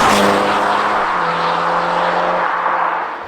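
A powerful turbocharged engine in a 2019 BMW Z4 roars loudly and steadily as it pulls up through the revs, close and sustained, with no voices.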